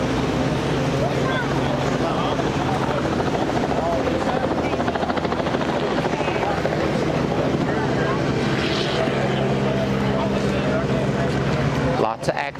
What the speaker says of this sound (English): Helicopter still going.